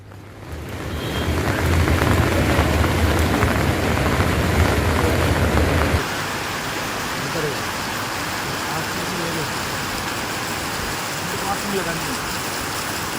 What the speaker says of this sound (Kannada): ಜುಲೈ ತಿಂಗಳ ಆರಂಭದಲ್ಲಿ ಸುರಿದ ಮಳೆಗಿಂತಲೂ ಹೆಚ್ಚಿನ ಪ್ರಮಾಣದಲ್ಲಿ ಜಿಲ್ಲೆಯಲ್ಲಿ ಮಳೆ ಸುರಿತಾ ಇದೆ.